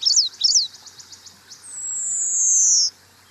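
A Hume's warbler sings close and clear, starting with a quick run of sharp rhythmic notes and ending on one long buzzy drawn-out note before it stops.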